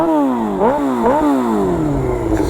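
Suzuki GSX-R600 sport bike engine running loud and close, revving up twice in quick blips before dropping back to a steady, rumbling idle.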